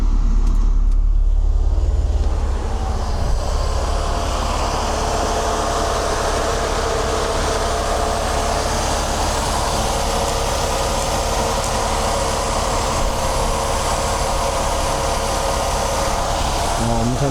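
A Mercedes R129 300SL, repaired for a faulty fuel distributor and low cylinder compression, runs with its air conditioning off in a steady, even drone, a deeper rumble briefly audible at the start before settling into a constant hum.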